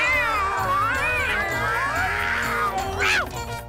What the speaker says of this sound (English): all 3 cats ran screeching out through the front door